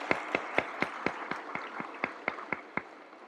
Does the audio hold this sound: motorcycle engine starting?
no